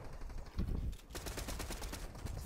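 Gunfire in a competitive online battle game: a quick run of rapid automatic shots, then another burst, fairly faint and with no talk.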